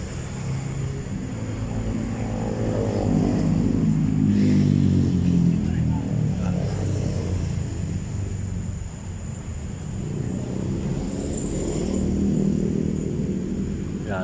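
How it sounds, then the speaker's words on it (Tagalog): Honda TMX 155 motorcycle, 18 years old, riding along with a steady low engine drone and heavy wind buffeting, loud and close throughout, with speech over it. "Yan po yung motor natin guys, Honda TMX 155 18 years na sa akin"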